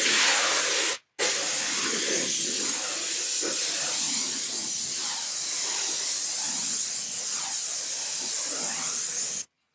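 A pressure sprayer applies fence stain with a loud, steady, close hiss that runs nearly continuously, broken once by a brief stop before resuming, then cutting off at the end.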